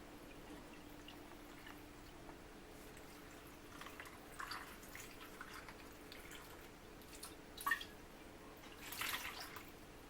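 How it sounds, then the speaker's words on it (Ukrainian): Brine is poured over tomatoes for pickling, making a faint, soft trickle of liquid with scattered drips and a slightly stronger splash near the end, in a quiet room. "все у нас вже розійшлося і заливаємо наші помідорки"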